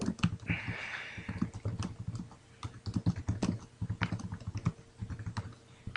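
Typing on a computer keyboard while entering an approval or denial message in CiviCRM software, rapid irregular key clicks close by, some louder strokes, with a faint steady hum underneath.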